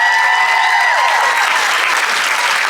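An audience at a Hocus Pocus 30th anniversary reunion panel at the House of Mouse Expo applauds, with loud, dense, continuous clapping and crowd noise filling the whole moment.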